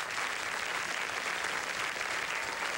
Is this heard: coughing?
no